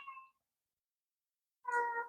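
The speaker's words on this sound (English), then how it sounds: "I got a cat in the background" A cat meows twice at a distance, a short faint call followed by a longer clearer one after a silent pause.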